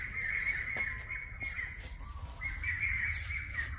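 Birds chirp and call steadily through an outdoor stretch at the Cu Chi Tunnels near Ho Chi Minh City, Vietnam, with shrill repeated notes standing over a low, constant background rumble.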